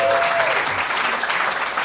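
A live audience at a comedians' panel show claps in dense, sustained applause, loud and close throughout.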